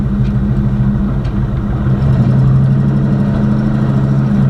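A box Chevy's engine runs steadily nearby, a deep, even idle rumble with a slight rise partway through, no talking over it.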